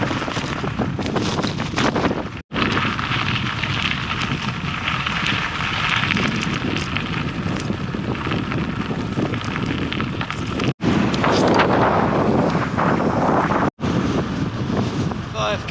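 Strong wind buffets the microphone on a cliff-top trail in South Australia during a bikepacking ride, a loud continuous roaring rush with gusty swells and brief cut-outs.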